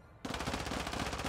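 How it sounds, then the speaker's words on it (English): Sustained automatic gunfire from a video game match on the Shoothouse map, a rapid, dense burst of shots that starts abruptly after a brief quiet and continues loud and unbroken to the end. "Listen to them shooting."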